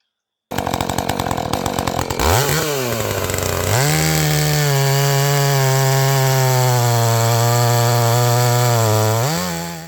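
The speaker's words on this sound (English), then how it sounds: "it's going to be the first time I've ever ran a Husqvarna chainsaw" A Husqvarna chainsaw starts with a pull, sputters, then revs up to a loud, steady, high-pitched whine close by, with throttle dips and swells before it settles into a sustained run.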